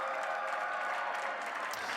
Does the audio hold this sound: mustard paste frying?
no